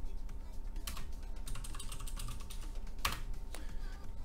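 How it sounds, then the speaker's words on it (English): Rapid keystrokes on a computer keyboard while a root password is typed during an Arch Linux install, a dense run of close, crisp clicks at an uneven pace over a steady background hum. "type in the root password that I always use"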